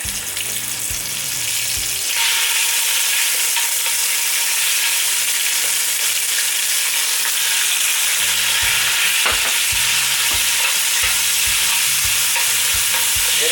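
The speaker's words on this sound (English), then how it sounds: "if you hear a sizzle" Chicken sizzles loudly and continuously in a hot pan, a dense crackling hiss with faint music underneath.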